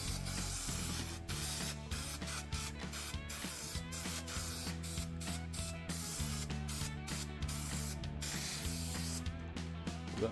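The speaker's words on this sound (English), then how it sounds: "So let's spray this with some of this adhesive." A spray can of adhesive hisses in repeated long bursts with brief gaps, close and loud, while a low mechanical hum runs steadily underneath, during a sidecar restoration.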